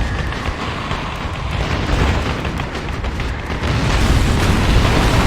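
A building blows up in the flight combat game Ace Combat Assault Horizon, producing a loud, sustained rumbling roar that swells near the end.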